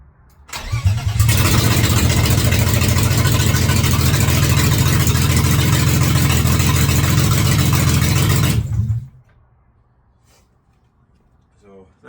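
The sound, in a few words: BMW E36 engine running without exhaust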